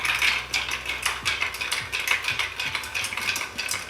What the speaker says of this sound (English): you want to stir this until it feels nice and cold in your hand